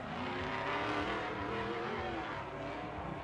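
A Falcon Tires Ford Mustang drift car at a Formula Drift night round in Las Vegas roars on the throttle, engine note sustained and rising with tire noise, loud and fairly close, no voices.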